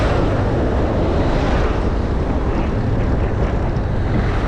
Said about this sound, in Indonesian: Bandara nih, itu pesawat.